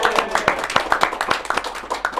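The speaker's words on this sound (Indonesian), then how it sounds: "Tepuk tangan dong." A small group claps in a loose, fairly quick rhythm, with sharp individual hand slaps heard up close and a light murmur of voices underneath.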